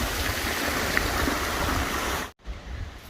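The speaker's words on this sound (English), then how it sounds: "If I had known there was a waterfall here" Steady rushing water of a waterfall along the Appalachian Trail gives a continuous broadband roar close by, with a brief cut near the end before it resumes, and no talking.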